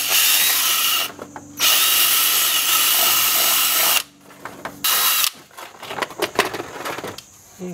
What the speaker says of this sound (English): I'm going to drill a hole on the front.